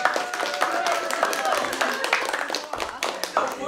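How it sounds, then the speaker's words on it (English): A school audience gives a short round of applause for a teacher named a Teacher of the Year finalist, scattered clapping mixed with voices and cheers. "Give him a round of applause."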